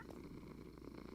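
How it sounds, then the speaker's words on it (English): Sleepy male cat purring loudly and close, a steady continuous rumbling purr with no talking. "that cat is loud."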